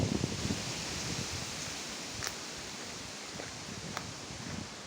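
Strong wind gusts through trees on a hill, making a broad, steady rustle of leaves with a few faint creaks and knocks in the background.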